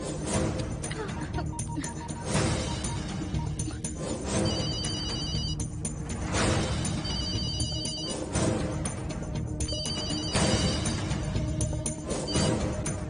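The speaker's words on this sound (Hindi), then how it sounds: "फोन ये लो।" A telephone rings in a dramatic Hindi-dubbed Telugu film scene, repeated electronic ringtone bursts recurring steadily over dense background music and sound effects, fairly loud throughout.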